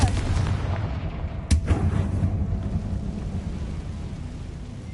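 In Hogwarts Legacy, a Confringo blasting spell bursts in a single sharp explosion partway through, over a continuous low rumbling game ambience.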